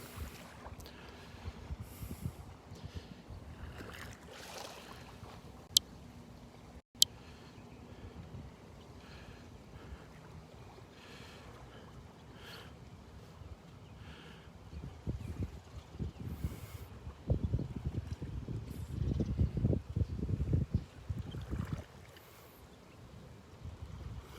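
Strong wind buffets the microphone on a beach, gusting in uneven rumbling bursts that grow heavier toward the end, with faint surf underneath.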